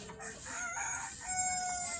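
A chicken crows and clucks in a rural yard, a fairly loud call that stretches across the whole two seconds with harmonic bands toward the end.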